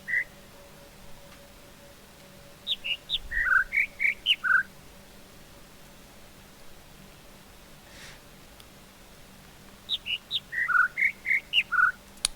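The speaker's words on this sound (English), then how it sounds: "there are 4 notes in this sequence, and the birds are kind of phase shifted" In a jungle area of the video game The Witness, two bursts of high, bright chirped bird notes play over a quiet ambient hum, each burst a short descending run of a few notes, with a lone note at the start.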